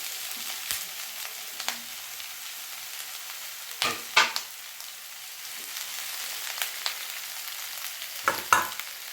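Onions sizzle steadily in a pan with raw banana pieces, a soft continuous hiss broken by a few louder stirring scrapes, close and without talk.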